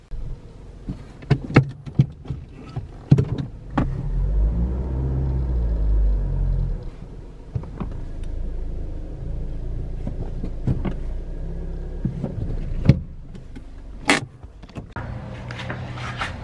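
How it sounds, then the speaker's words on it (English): A Mazda3 backs slowly into a garage in Florida, its low engine rumble and tyre noise steady and close, with a few sharp clicks and knocks scattered through the manoeuvre. "I'm gonna go ahead and back the car into the garage"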